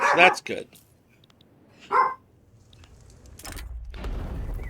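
A dog barks indoors, with two short sharp bursts close to the mic separated by a pause, while someone talks and a low rumble rises near the end.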